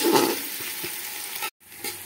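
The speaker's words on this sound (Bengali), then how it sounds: "এখন আমি পেঁয়াজটা ভাজতে শুরু করেছি, আর মিডিয়াম টু হাই ফ্লেমেই আছে।" Onions fry in oil over a medium to high flame for biryani, giving a close, crackling sizzle with stirring scrapes, then a short cut before the sizzle resumes.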